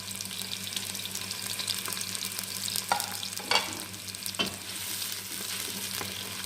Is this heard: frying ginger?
yes